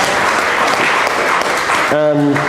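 A congregation at its annual meeting applauds to approve a motion, with loud, steady clapping that ends in a brief tonal sound near the close.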